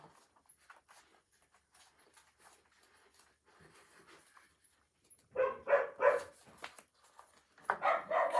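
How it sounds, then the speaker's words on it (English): Several dogs barking in bursts at a home on a full-moon night, loud clustered barks arriving after a quieter stretch of faint rustling and distant noise, then another volley near the end. "The dogs have been on high alert for a few days now"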